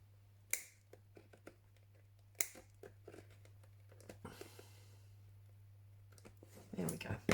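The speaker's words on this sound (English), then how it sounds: "just trim it a bit closer with my small scissors" Small scissors trim paper for a junk journal project, making a few sharp snips and light clicks spaced out over quiet room tone, with paper rustling toward the end.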